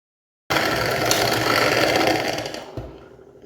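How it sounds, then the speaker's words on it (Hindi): An electric hand beater whirs loudly and steadily as it beats sugar and oil together for a fruit cake batter, running close for a couple of seconds before winding down. "अब मैं अच्छे से इनको पहले ब्लेंड कर लूँगी, इससे बीटर से बीट करूँगी अच्छे से।"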